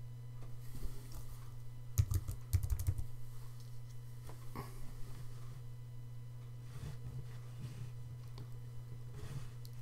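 Typing on a computer keyboard while adding text in the Photopea image editor, soft irregular key clicks with a brief flurry near the start over a steady electrical hum.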